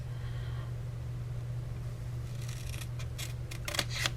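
Scissors snip through patterned paper for a folded gift box, a few quick crisp cuts in a row after a quiet stretch, close and faint over a low steady hum.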